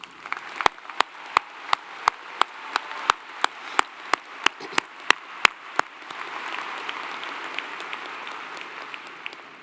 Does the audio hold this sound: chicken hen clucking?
no